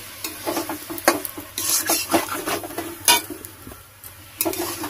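Ash gourd and shrimp being stirred and fried together in a pan, with repeated spatula scrapes and clanks over a continuous sizzle, close and fairly loud, no talking.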